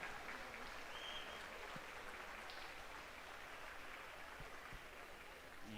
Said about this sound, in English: Let's give them a big round of applause as they leave competitive class.